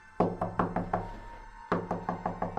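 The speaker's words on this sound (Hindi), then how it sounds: "वापस से दरवाजे पे नॉक होता है" Knocking on a door at night, two bursts of five sharp, evenly spaced raps separated by a short pause, close and loud with no voices.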